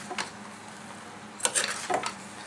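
A spoon or spatula stirs shrimp and sponge gourd in a pan, giving a few brief scraping strokes over a faint sizzle, with quiet gaps between them.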